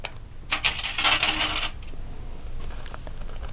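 A glossy magazine sheet being quickly folded to pour enamel powder back into a cup, crisp crinkling paper rustles close up for about a second, then softer rustling and faint grainy pouring.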